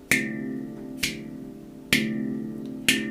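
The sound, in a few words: handpan slap stroke, metallic snap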